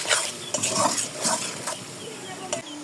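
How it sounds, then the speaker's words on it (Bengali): Spice masala of chili powder, coriander and turmeric stir-fried in a pan in a home kitchen, with soft scraping strokes and a gentle sizzle at close range and a few light utensil clinks, all without voices. "এদিকে মশলাটা ভালো মতো কষানো হচ্ছে"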